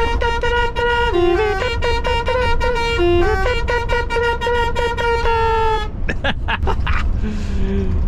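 Loud, sustained musical truck horn tones playing a tune, followed by scattered clattering noises and a faint voice.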